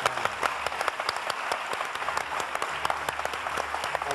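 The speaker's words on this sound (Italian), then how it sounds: "Anzi, merita un applauso sicuramente." Audience applause on an Italian quiz show set, a steady patter of many hands clapping throughout with a few sharper individual claps standing out, no talking over it.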